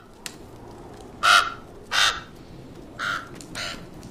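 Four harsh crow caws ring out one after another with short gaps between them, fairly close and clear over a quiet background hiss.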